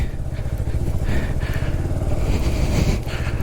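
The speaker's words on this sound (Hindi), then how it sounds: "जब आप नीचे को उतारते हो बाइक, तो फर्स्ट गियर पे बिल्कुल आराम से, बड़े आराम से उतर जाती है बाइक भी" A motorbike rolls downhill in first gear on snow, its engine a steady close rumbling putter with a throbbing low pulse and no change in pitch throughout.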